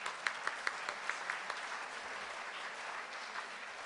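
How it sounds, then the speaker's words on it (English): Faint, thin applause from a small group at a Rotary meeting, a few distinct claps at first, then a soft scattered patter that fades. "Let's give them all a round of applause."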